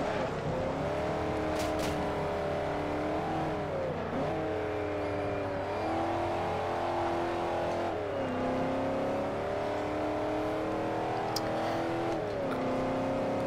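Car engine revving and racing in the video game Forza Horizon, a steady loud drone with repeated pitch dips as gears shift, running continuously with a low hum beneath and no talk.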